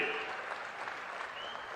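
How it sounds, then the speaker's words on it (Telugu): A crowd at a political public meeting in Gudivada claps together, giving a brief, faint, steady patter of applause. "గట్టిగా చప్పట్లు కొట్టి అభినందించండి."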